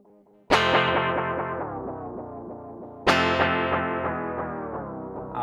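Electric guitar run through a Strymon Timeline delay pedal set to Memory Man-style settings: two strummed chords, each ringing out with a warm, slowly decaying echo tail and a slight chorus-like shimmer.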